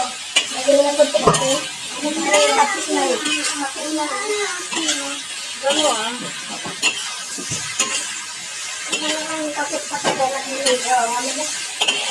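Salmon sautéing in a pan with tomatoes, a steady sizzle broken by repeated scraping stirs of a ladle, with people talking over the cooking throughout.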